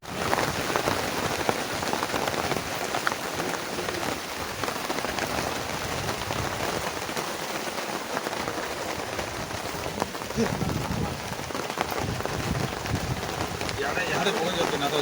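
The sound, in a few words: rain falling during an outdoor chicken feast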